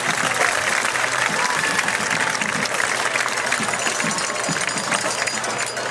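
A high school football stadium crowd claps and cheers together for a young man on crutches, a dense, sustained wash of applause heard from the broadcast booth.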